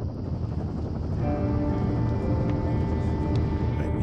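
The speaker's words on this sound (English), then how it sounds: "There's the helicopter." In the video game Firewatch, a helicopter's rotor chops steadily and close, a continuous whirring thrum that holds at one level for the whole stretch with no voices.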